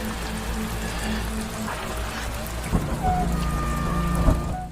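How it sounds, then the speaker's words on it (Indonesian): Rain falls steadily at night, a dense continuous patter on surfaces with a low rumble underneath and a few sharper knocks and tones near the end. "ketika hujan turun di malam hari"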